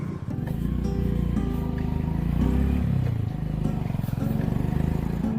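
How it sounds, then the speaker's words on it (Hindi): Motorcycle being ridden, a steady engine drone with a rhythmic pulsing note and some rattly road noise, moderately loud and continuous for the whole stretch. "बहुत ही बैलेंस बाइक चला रही हैं आप तो"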